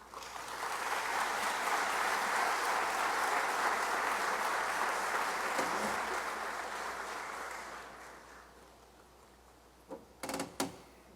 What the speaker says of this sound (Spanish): les pido recibirlo con un caluroso aplauso